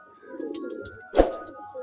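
A male Madrasi pigeon gives a soft, low coo close by, with a brief rustling burst partway through.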